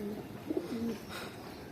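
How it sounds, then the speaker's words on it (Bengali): Adult pigeons coo softly in a brief, low burst on a rooftop loft, a faint murmuring call over steady background hiss. "এগুলো আমাদের পুরো ধাড়ি পায়রা"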